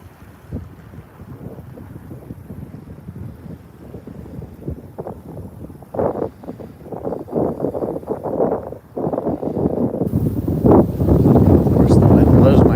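Wind buffets the microphone on a fishing boat, with gusty low rumbles that grow stronger and rougher toward the end, loud and close.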